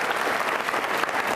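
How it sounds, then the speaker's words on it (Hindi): A full audience at an NCC cadets' Independence Day quiz show applauds continuously, a thick, even wash of many hands clapping at moderate volume with no voices on top. "तालियां जोरों से बजाइए आपके लिए"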